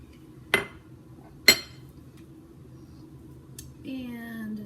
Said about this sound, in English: So I'm going to add my lime juice.